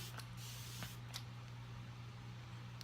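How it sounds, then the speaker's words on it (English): A few quick, soft hissing bursts of a face mist spray bottle, close by, over a steady low hum. "I'm going to spray my face before I blend my concealer in."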